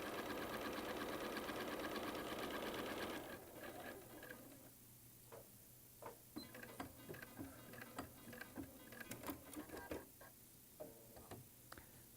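Home sewing machine stitching half-square triangles onto a quilt block, a steady close run that stops after about three seconds, followed by faint scattered ticks and light handling clatter.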